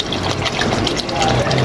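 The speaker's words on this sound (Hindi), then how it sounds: "एक गिलास पानी डाल के इसको गलने के लिए रख देते हैं," A glass of water pours into a pot of mutton karahi, a close gushing splash that runs steadily, with a voice talking over it.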